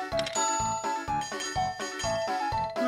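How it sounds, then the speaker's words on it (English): A small handheld bell rung repeatedly at a stall selling seaweed stew in the Harvest Moon: Grand Bazaar video game, giving a steady series of bright, close tinkling chimes with no talk. "I just have to use my right thumb to ring this bell. Ring, ring, ring, ring."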